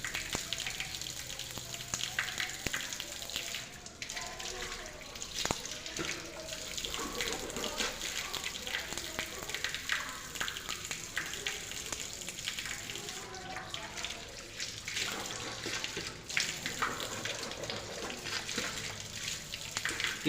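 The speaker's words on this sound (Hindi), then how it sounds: "अब 3 बार करेंगे कुल्ली सही तरीके से।" A water tap runs steadily into a sink during wudu while someone rinses their mouth. A continuous close hiss of flowing water is broken by irregular splashes and short drops in the flow.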